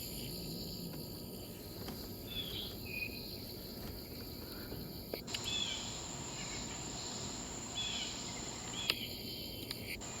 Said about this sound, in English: There's I hear a a Robinson cicada.